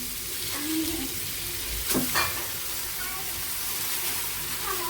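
Pasta with meat and spices stirred in a frying pan (kadai), with a steady sizzle and scraping stir strokes, a sharper clatter near the middle, and a voice talking over it.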